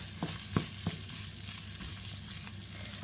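Okra frying on top of meat in a pot while being stirred, with a low continuous sizzle, a few soft utensil knocks and a sharper scrape or clink at the end, close and without talk.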